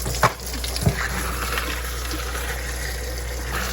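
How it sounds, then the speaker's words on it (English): Tap water gushing steadily at a sink into containers of ceramic filter beads, a continuous broadband rush with a couple of brief knocks near the start and no talking. "Then I run water in them."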